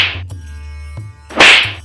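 Cartoon slap sound effects in a Hindi animated folk tale, a short sharp smack followed by a second louder, broader slap, set over a low steady musical hum.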